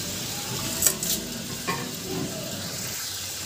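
Whole garam masala spices (green and black cardamom, black pepper, cloves, cinnamon) dropped into hot oil, giving a steady soft sizzle with a couple of brief crackling bursts near the start, close and alone with no voices.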